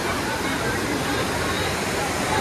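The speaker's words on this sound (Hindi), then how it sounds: "ये बरुआ सागर झरना है, अभी पानी का लेवल कम है" Baruasagar waterfall pours steadily with low water level, a dense, constant broadband rush of falling water close by, filling the whole clip.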